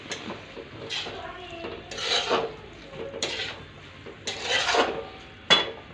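Rasping scrapes of a utensil against a pan as chilli sauces are stirred into hakka noodles, several uneven strokes and a final sharp clink, close and fairly quiet.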